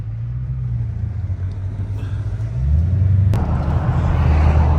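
Loud, deep exhaust rumble from a Scat Pack car on a night drive, heard from inside as a steady low drone that swells louder midway with a sharp click near the end.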